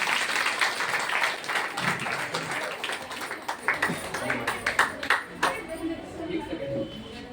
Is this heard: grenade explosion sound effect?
no